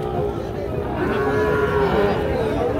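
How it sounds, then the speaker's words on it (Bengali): A Sahiwal bull calf at a cattle market lets out a long, loud moo close by, over a murmur of crowd noise. "শাহিওয়াল ষাঁড় বাছুর।"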